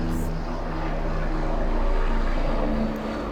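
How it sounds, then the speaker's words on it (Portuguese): A low, steady aircraft drone, like an airplane or helicopter passing overhead, rumbles continuously at moderate distance, swelling slightly in the middle and easing off toward the end. "Esperar o helicóptero passar aqui, o avião passar aqui."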